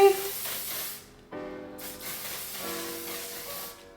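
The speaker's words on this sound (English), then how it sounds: "I have been using the Red by Kiss melting spray." Red by Kiss melting spray sprayed onto a wig in two long close hissing bursts separated by a short pause, with a voice faint underneath.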